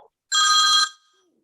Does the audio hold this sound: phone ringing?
yes